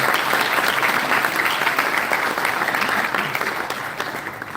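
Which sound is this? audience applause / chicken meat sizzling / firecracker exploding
audience applause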